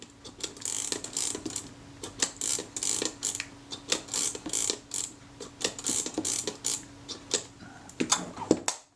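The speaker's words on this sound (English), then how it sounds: "I'll get my spanner onto the flats on top of the take-up shaft, or the film advance shaft" A spanner tightens the film advance shaft of a Retina I type 010 camera during repair, giving a close, quiet series of irregular metallic ticks and ratcheting clicks that run steadily throughout with no talk.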